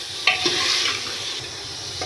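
Beetroot stir-fried with spices in a pan, a steady close sizzle of frying with a few scraping clicks of stirring, continuous and moderately loud, no voices.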